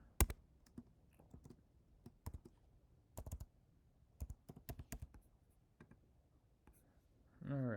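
Login credentials typed on a computer keyboard, sharp plastic key clicks arriving in uneven bursts and pauses, fairly close and quiet, with a brief low voice-like murmur at the very end.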